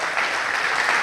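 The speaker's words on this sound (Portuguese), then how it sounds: "Vamos aplaudir o Senhor Jesus." A church congregation applauds, a brief dense burst of many hands clapping together, steady and fairly loud.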